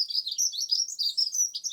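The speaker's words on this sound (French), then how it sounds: "et le bruant à gorge blanche." Short white-throated sparrow call, a clear high whistled phrase of several sliding notes, bright and close with no other sounds.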